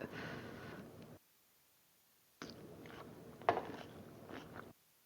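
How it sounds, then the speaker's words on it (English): Close, quiet chewing and biting into a shrimp taco with cilantro and cabbage, two bursts of soft crunchy mastication separated by a pause of near silence. "I'm going to make sure that I get some cilantro, some cabbage, and some shrimp in my bite"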